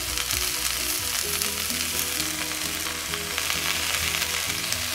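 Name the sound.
spinach frying with vegetables in a pan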